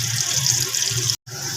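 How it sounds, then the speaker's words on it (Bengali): Water poured into a pan of tomato-based fish curry, a steady rushing splash that breaks off briefly near the end, then resumes. "এবার এর মধ্যে দিয়ে দেওয়া হলো জল"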